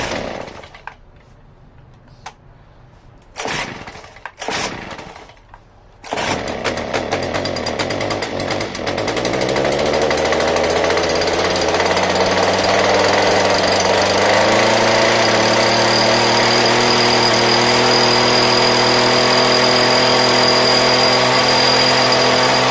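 A small petrol engine, running without choke or throttle, gives a few short sputtering pulls, then catches and roars at full throttle, loud, close and steady, with the pitch climbing as it revs up.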